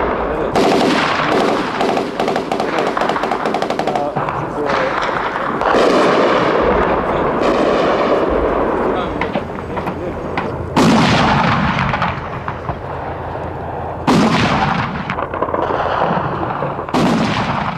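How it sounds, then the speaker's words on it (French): Repeated sharp blasts and bursts of gunfire with explosions at night during the 1992 fighting around Dobrinja, Sarajevo, some near and loud, others distant, cracking irregularly through the whole stretch with no talking. "La nuit est terrifiante, partout des explosions, des traçantes."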